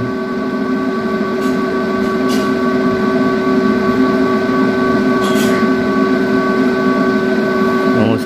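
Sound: power amplifier's two cooling fans running loudly

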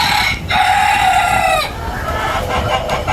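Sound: desi chickens clucking and crowing on a farm

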